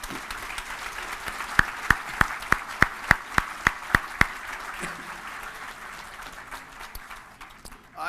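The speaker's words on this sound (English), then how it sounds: "So please join me in a round of applause for that group." Applause at a veterans' memorial support-our-troops dinner: a soft wash of clapping in a hall, with one pair of hands clapping loudly and rhythmically near the mic for a few seconds before the sound fades.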